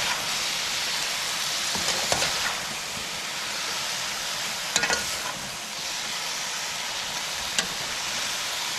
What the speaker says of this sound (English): So I'll give it a stir.